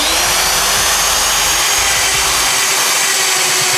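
Rotabroach magnetic drill boring through 6mm steel plate, a loud, steady, harsh motor whine with grinding cutter noise and low rumbling judder early on.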